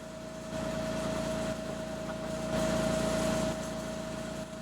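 Metal lathe turning at about 100 RPM while cutting out the inside of a metal GoPro mount body, a steady hum with a fixed whine and mild rough rasping that swells slightly partway through, no talk.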